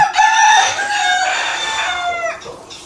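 A rooster crows loudly and close on a poultry farm, a long drawn-out call with a few clucks around it, heard on its own.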